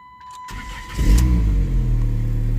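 A 2006 Dodge Stratus with the 2.4 engine, a new PCM and a new starter, cranks briefly and then catches, settling into a steady idle. It is close and fairly loud, with a faint whine beforehand and no talking.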